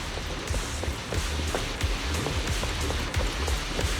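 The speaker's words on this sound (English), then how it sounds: "The wind and rain are picking up." Wind and driving rain in the Zenless Zone Zero video game: dense, steady rain patter with gusty rushing noise and scattered close drops, loud and continuous with no voices.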